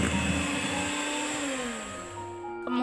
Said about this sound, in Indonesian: Lalu mixer sebentar sampai tercampur.